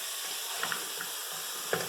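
Chicken gizzards and hearts frying in a pan give a steady, moderate sizzle with a few brief pops and crackles throughout.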